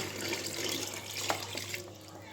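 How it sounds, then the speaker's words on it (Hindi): Water runs into a cooking pot already holding cardamom, chilies, bay leaves and cloves for a goat intestine curry, a steady close splashing stream with a brief louder splash midway. "अब इसमें मैं डालूंगी पानी"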